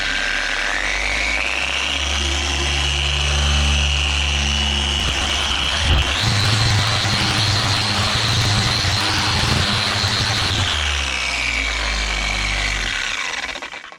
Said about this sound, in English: heavy cut Hex Orange Pad with a Guild dual action polisher and some Mcguires Ultimate Compound